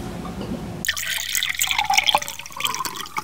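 Liquor being poured into a shot glass in a hotel room, a steady trickling splash of liquid that starts abruptly and runs close and moderately loud for a few seconds.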